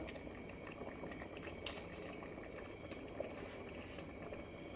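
Khi lek (cassia) leaves boil in a pot of water, giving a steady, close bubbling roil that runs throughout with a few faint clinks.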